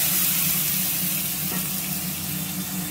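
Poppy seed paste spatters and hisses steadily in hot oil in a pan, a loud continuous sizzle with no talk over it.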